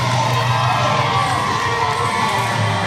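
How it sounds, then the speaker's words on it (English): A crowd at a fight event cheers and shouts loudly and continuously as a fighter enters, with high-pitched whoops rising over the dense roar. "Erica has entered the building, and this crowd is going wild."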